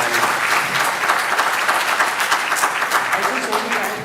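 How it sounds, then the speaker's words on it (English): Audience applause for panelist Karan at a marketing conclave panel, steady dense clapping from a crowd lasting the full four seconds without a break. "So I'll request everyone to give a round of applause to Karan and excuse him from the panel."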